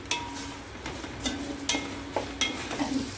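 Onions and green chillies frying in oil in a pan for a cucumber chicken curry, a soft steady sizzle with several sharp scraping stirs of a spatula at irregular intervals.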